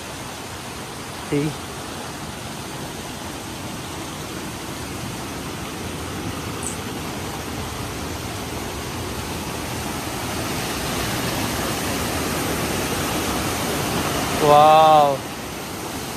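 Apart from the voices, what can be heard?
water falling at Bamni waterfall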